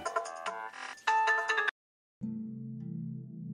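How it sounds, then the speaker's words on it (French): A phone ringtone sounds for an incoming call, a bright melodic tune playing loud and close for about two seconds, then a short silence before a lower, steady buzzing tone continues. "Ah, mais réponds à l'appel."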